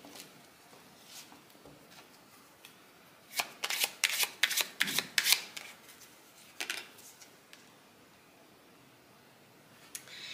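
A deck of tarot cards shuffled up close during a reading: a quiet stretch gives way to a quick burst of crisp riffling flutters in the middle, followed by a few softer card taps and slides.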